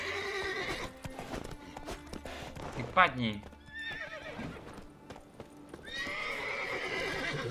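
Horses in the Witcher 3 video game whinny and neigh repeatedly amid hoofbeats and in-game clatter, with someone speaking briefly over them.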